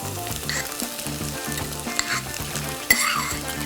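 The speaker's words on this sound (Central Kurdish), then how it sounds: "دۆشاوەکەی بۆ زیاد دەکەین" Vegetables for a spaghetti dish sizzle steadily in a hot pan after grape molasses is added. The close, continuous frying hiss is joined by a couple of sharp utensil clinks.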